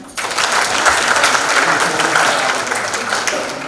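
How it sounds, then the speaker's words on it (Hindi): Loud applause from a seated audience at a session, starting abruptly and holding as a dense, steady roar of clapping, easing slightly toward the end. "जोरदार तालियां"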